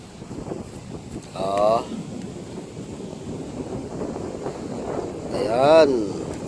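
Strong seaside wind buffets the microphone in rumbling gusts, with a couple of short voiced outbursts breaking through.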